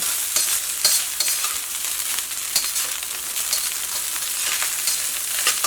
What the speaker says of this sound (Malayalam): ഒരിങ്ങനെ പൊരിഞ്ഞ സൗണ്ട് പോലെ വരുന്നില്ലേ, അതേപോലെ നന്നായിട്ട് അങ്ങോട്ട് ചൂടാവണം.